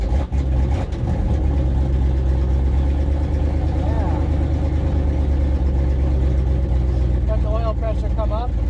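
A 1993 Dodge Dakota with a manual swap runs steadily close by, its engine a low continuous rumble through the whole stretch as it sets off, with a person speaking briefly near the end.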